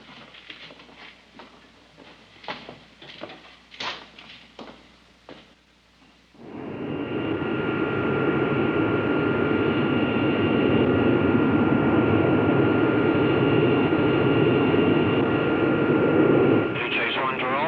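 Aircraft engines spool up before takeoff of an X-15 chase flight, a loud, steady jet roar with a whining tone that fills the air after a stretch of tapping and voices beforehand.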